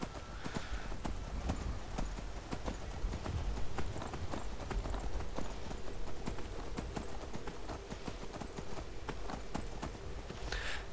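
Horse hooves in Skyrim pound in a fast, regular galloping rhythm throughout, close and steady, with no talk over them.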